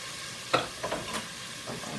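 Garlic and onions sautéing in a pan for spaghetti meat sauce, a soft steady sizzle broken by a few brief scraping stirs, close and fairly quiet.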